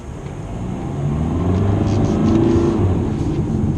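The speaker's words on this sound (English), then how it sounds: "listen out to see if you can hear like the revs climb" A 2017 Jaguar XE's engine revs up, its low rumble climbing steadily in pitch and loudness over a few seconds, heard close up with no talking.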